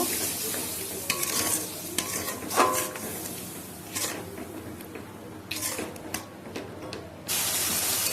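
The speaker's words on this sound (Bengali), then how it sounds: "মশলাটাকে কষিয়ে নেব।" Spice masala being stir-fried in a pan with a splash of water for a pointed gourd and prawn curry, loud steady hissing sizzle with repeated scraping and clattering of a spatula against the pan, close up, no voices.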